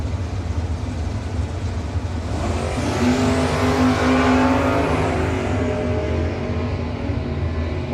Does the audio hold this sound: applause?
no